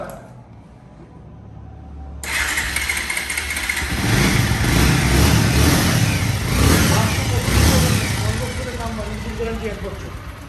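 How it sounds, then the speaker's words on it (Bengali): A used Bajaj Pulsar motorcycle is started and left idling, the engine catching after a short quiet lead-in and then running steadily and loudly close by, with someone talking over it. "আমি স্টার্ট করে না শুনে বুঝবেন না বাইকটা"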